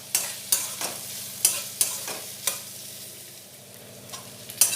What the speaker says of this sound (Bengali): পেঁয়াজটা 1 মিনিট একটু নাড়াচাড়া করে নেব।